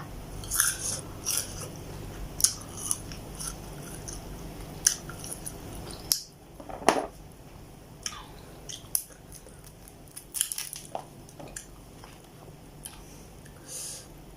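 Crunchy bites and wet chewing of sour tamarind pods, close to the mic, with sharp irregular bites through the first half and softer, sparser mastication afterward, no talking.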